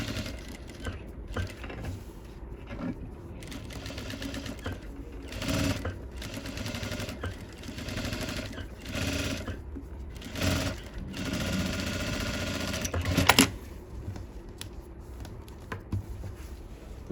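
A sewing machine stitches a pattupavadai, a traditional silk skirt and top, in repeated short bursts of rapid needle clatter separated by pauses, fairly close and steady throughout.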